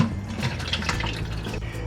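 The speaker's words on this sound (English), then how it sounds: "we want to get rid of all of that brine, so we're going to pour it out in a" Brine from canned ackee poured out into a colander, a steady close trickle and splash of liquid with drips, lasting under two seconds.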